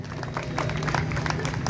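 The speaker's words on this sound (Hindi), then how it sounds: "एक बार जोरदार ताली बजा के स्वागत करेंगे।" Steady applause from an outdoor crowd greeting a guest at an International Yoga Day celebration at Agrasen Square, a dense continuous patter of clapping for under two seconds.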